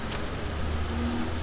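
Steady acid rain pours through a castle setting in the video game Star Wars Jedi Academy, a dense, even hiss that holds without a break for the whole short stretch, with a low hum underneath.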